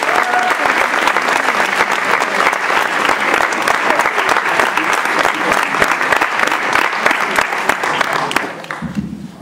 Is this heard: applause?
yes